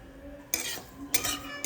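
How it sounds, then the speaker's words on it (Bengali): Lentils being dry-roasted over a low flame in a wok are stirred, with three sharp scrapes and clinks of a spoon against the pan standing out from a quiet background. "ডালটাকে একটা কড়াই দিয়ে এবার ভাজা ভাজা করে নেব।"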